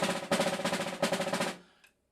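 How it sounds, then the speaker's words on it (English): Rapid buzz strokes on a snare drum roll in a dense pulsing rhythm, with a clear accent partway through, before the sound cuts off and rings out briefly, close and alone. "So now I'm going to try buzzes on the drum."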